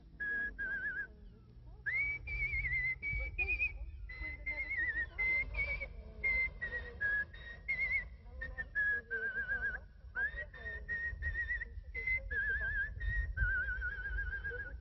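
A young man in Saint-Pierre whistles an old Basque melody, a clear solo tune of sustained and gliding notes with short breaths between phrases, close and alone.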